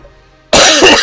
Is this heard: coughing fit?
yes